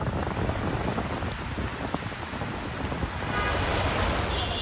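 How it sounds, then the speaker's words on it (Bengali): Heavy rain pours steadily over Dhaka after a spell of intense heat, a dense, loud, unbroken wash with no voices. "প্রচণ্ড গরমের পর স্বস্তির বৃষ্টি।"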